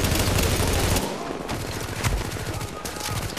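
Gunfire in The Division, dense rapid automatic bursts from enemies firing at the player, loud and close throughout, with a voice over it.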